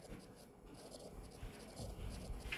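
Pen scratching steadily on paper as a short summary is handwritten in Korean during an English lecture; quiet, close, continuous strokes with no speech.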